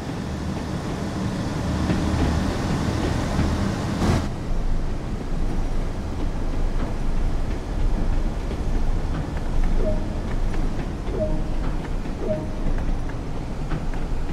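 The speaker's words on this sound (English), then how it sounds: "Observe that the train now has the ability to accelerate to a higher speed." A Class 101 diesel multiple unit accelerates on the Tees Valley Line in Train Sim World 2, giving a continuous engine drone and rumble with a short sharp burst early on and a few faint tonal squeals later.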